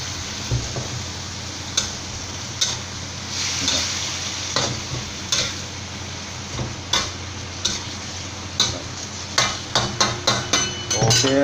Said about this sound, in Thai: ผัดคะน้ากับปลาสลิดทอดกรอบ